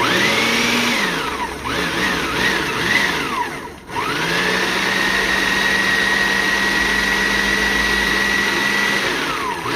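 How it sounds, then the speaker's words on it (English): A blender whirs loudly and steadily blending fresh seasoning, its motor pitch dipping and rising as it chops, briefly pausing before running on at a constant high whine. "I'm blending some fresh season to season the pigtails."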